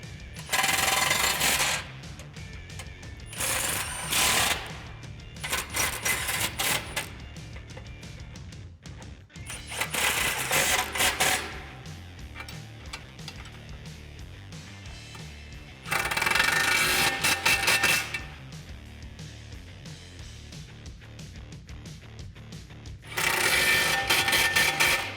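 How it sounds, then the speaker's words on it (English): Ratchet or impact tool snugs up hardware on a DV8 off-road recovery front bumper fitted to a 2018-2019 Ford F150, in several loud, close bursts separated by quieter stretches of clinking and handling. "I'm just gonna run through and snug up some of that hardware just a little bit"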